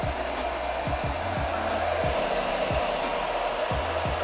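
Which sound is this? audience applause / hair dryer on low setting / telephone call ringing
hair dryer on low setting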